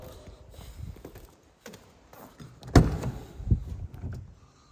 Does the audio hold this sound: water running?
no